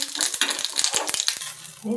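Cumin seeds tempering in hot oil for a Kathiyawadi dhokli and jeera rice dish, crackling and popping in quick, uneven bursts with a steady hiss, close and fairly loud, no talking.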